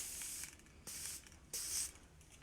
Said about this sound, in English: I'm going to put some more hairspray in my hair.